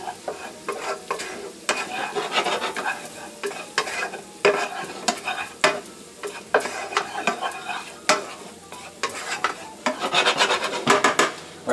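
Turmeric gets stirred into a creamy pasta sauce in a pan, with repeated scraping strokes of a utensil against the pan over a soft sizzle, irregular and close, with no talking.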